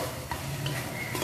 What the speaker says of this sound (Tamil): நம்ம லைட்டா வதக்கிக்கலாம்